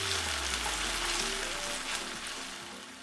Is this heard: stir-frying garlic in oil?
yes